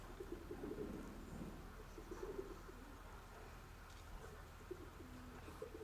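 Soft, low pigeon cooing, likely from a racing pigeon, repeats in short phrases against a steady outdoor background hum, fairly faint and a little distant.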